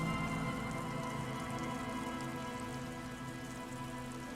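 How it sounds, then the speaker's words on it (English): Rain falling lazily on reeds by an abandoned campsite in Disco Elysium, a steady hissing patter with soft droplets and a faint low drone, continuous and fairly quiet, no talk. "The reeds by the abandoned campsite hiss and shake in the lazily falling rain."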